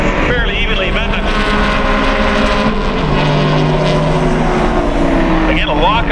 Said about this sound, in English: the two cars coming out of the front straight now